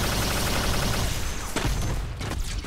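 A proton cannon blast from a Marvel fighting game pitting Iron Man and Captain America against Spider-Man and Black Panther rings out as a loud, dense roar with crackling bursts, sustained for about three seconds and easing slightly toward the end.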